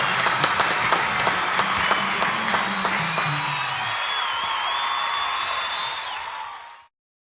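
Audience at a music festival applauds a singer, a dense and steady burst of clapping with a few cheers that holds for about six seconds before fading out abruptly.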